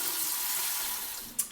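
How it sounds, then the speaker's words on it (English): Rice being rinsed under a running kitchen tap, a steady close hiss of flowing water throughout with a short splash near the end. "So make sure you rinse your rice."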